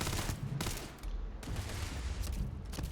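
Rapid, dense weapon fire from a video game during a playthrough, with bursts of shots crackling continuously across the whole stretch, loud and close with no talking.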